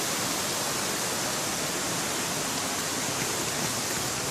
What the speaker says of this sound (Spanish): estamos aquí en Umbria mostrando lo que es la cascada de Mármore.